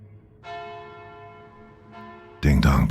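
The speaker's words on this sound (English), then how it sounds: "Mike rang the bell." A bell rings twice in a drama scene, each strike a bright resonant tone that lingers and decays, followed by a burst of loud noise and voices.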